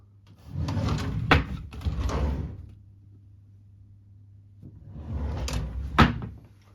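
Wooden drawers in a chest of drawers slide open and shut in a rented house, two bursts of rumbling scrapes each ending in a soft knock, with a quiet pause between them.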